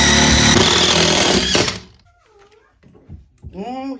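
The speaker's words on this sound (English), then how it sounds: "I'm drilling out right next to a wire" A power drill bores into a wall close to an electrical wire and outlet while fitting out a cat room. A loud, close, grinding whine runs for about two seconds and then stops, followed by brief speech.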